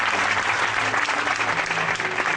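A church congregation applauds loudly and steadily in acclaim during a sermon, with crowd voices cheering faintly beneath the clapping.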